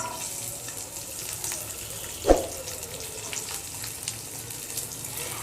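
Garlic and onion softening in hot oil for a sesame bharta, a low steady sizzle with one sharp clink partway through, no talking.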